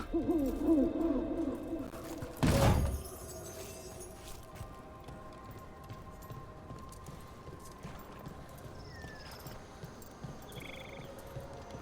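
A repeating owl hoot sounds near an owl statue in Dragon Age: The Veilguard, low hoots at the start over a soft ambient bed, followed by a brief loud thump, then quieter game ambience with faint high chirps.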